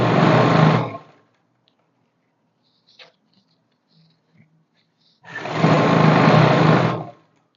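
A sewing machine runs a line of stitching along pant fabric in two short bursts of rapid needle chatter, separated by a quiet pause with a few small clicks and handling sounds.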